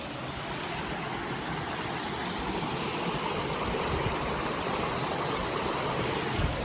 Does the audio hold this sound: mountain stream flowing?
yes